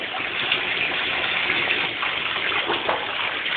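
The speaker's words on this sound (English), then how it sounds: "Mommy's going to put more warm water and bubbles, okay?" Warm water pours from a faucet into a bathtub for a child's bath, a steady, loud, close gushing rush with no pauses.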